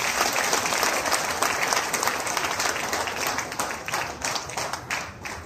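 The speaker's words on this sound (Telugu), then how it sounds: "సో ఒకసారి గట్టిగా క్లాస్ కొట్టండి" An audience at a business meeting in Gajwel claps hard on cue, producing a dense, continuous burst of applause that stays loud throughout and then thins slightly toward the end.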